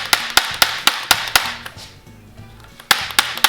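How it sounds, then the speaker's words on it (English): Rapid bursts of an impact wrench with a 1/2 inch socket spinning off four nuts during a belt replacement, several sharp loud hits in clusters with a short quieter gap, close and alone. "with a 1/2 inch socket and an impact or a socket wrench, you're going to remove these 4"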